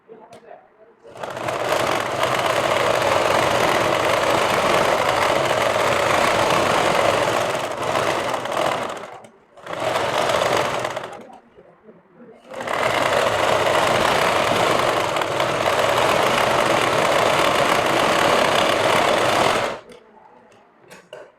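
A sewing machine runs in long steady bursts with two short pauses, stitching a double seam on a sharara salwar. Its hum is loud and close.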